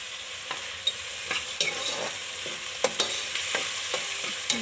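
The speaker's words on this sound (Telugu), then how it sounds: "చాలా ఫ్రై అవుతుంటుంది చూడండి" Tomatoes and curry leaves fry in a pan on a gas stove for egg curry, giving a steady close sizzle broken by sharp scraping clicks from stirring, with no voices.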